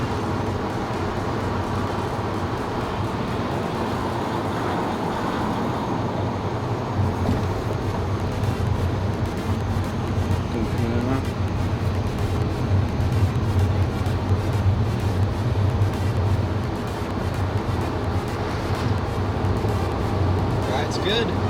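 Interior ride noise of a 2012 Audi S5 on the road: a steady low road and engine rumble fills the cabin throughout, with a person talking briefly over it.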